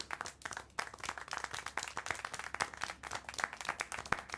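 Sparse clapping from a character in the adventure video game Syberia: The World Before, a string of distinct, fairly quiet hand claps repeating in an uneven rhythm.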